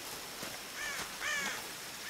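A crow in the video game Tomb Raider gives two or three harsh, rasping caws, moderately near and fairly quiet, with nothing else over them.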